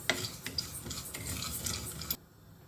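Sesame seeds dry-roasting in a pot and stirred until they colour, heard as faint, close scratchy rustling and light ticking that stops abruptly near the end, with no talk.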